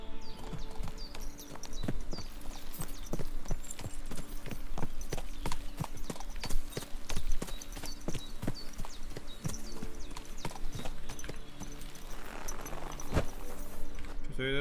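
Horse hooves clip-clop at a steady walking pace through a medieval world in Kingdom Come: Deliverance 2, close and clear over a constant bed of ambient game sound, with an occasional faint whinny and some speech in the background.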